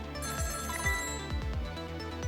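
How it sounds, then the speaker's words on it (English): Phone ringing in the video game Ghost Trick: Phantom Detective, a repeating electronic ring with a steady ringtone pattern over a background music bed, bright and close, with no voices. "that'll be Lynn's phone call from the park?"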